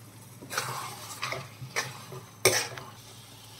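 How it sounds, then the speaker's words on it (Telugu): Prawn gongura curry being stirred in a pot, with several scraping, clattering strokes of a spoon against metal over a faint steady simmer, the loudest scrape coming near the end. "ఒకసారి కలుపుకుందాం."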